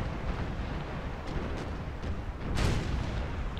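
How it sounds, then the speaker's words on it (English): A burning East Indiaman ship explodes in a naval battle game: a deep, rumbling blast with scattered crackling booms, swelling louder toward the end, no talking. "Oh, now it's completely set ablaze. Any second now it'll explode."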